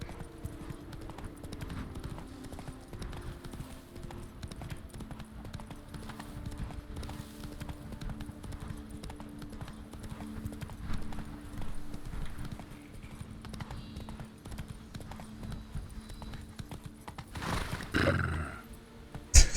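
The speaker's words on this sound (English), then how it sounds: "Did he just make a horse sound?" A horse in The Witcher 3 clip-clops steadily over a low background hum, followed near the end by a loud, brief neigh.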